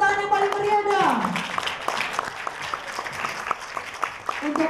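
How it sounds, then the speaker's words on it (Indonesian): An audience applauds Indonesian badminton players coming on stage, loud sustained clapping from a crowd that follows a fading tone and carries through to the end, with voices mixed in. "Kita berikan tepuk tangan yang paling meriah dong"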